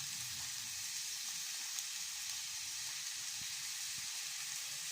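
Chopped capsicum and green chilli fry in a pan with a steady, faint sizzle and hiss, constant throughout with no voices.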